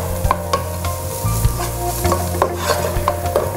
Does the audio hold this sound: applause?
no